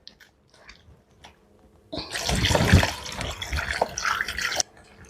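Water rinsing paneer curd by hand until the water runs clear: a dense, loud burst of splashing and sloshing lasting a few seconds, framed by quieter clinks and handling noises, with no talk.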